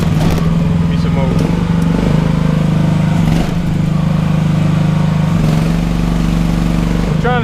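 A running AGT L12R cheap Chinese mini excavator engine hums steadily and loud up close, with small dips and clanks as the hydraulics work, while someone talks over it.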